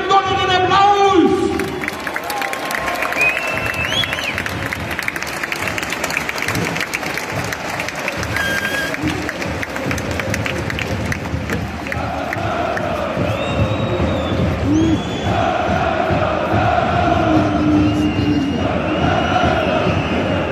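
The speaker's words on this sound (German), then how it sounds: "Und das machen wir jetzt für unseren SCP mit einem donnernden Applaus!" A big stadium crowd at an SC Paderborn 07 home football match against Hannover 96 applauds and roars, a broad sustained wall of clapping, shouts and chanting with an announcer's amplified voice heard over it.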